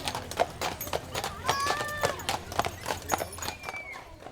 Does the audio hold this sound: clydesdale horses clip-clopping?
yes